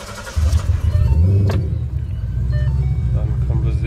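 A 2014 Ford Mustang Shelby GT500 Convertible Super Snake fires up close by. After a brief crank, the engine catches with a loud low rumble and settles into a steady, throaty idle.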